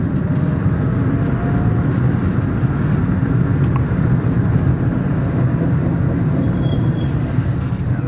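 A Daihatsu Charade kei car with a freshly replaced clutch and brakes needing work drives in second gear, its loud continuous engine and road rumble filling the cabin at a steady level without pause.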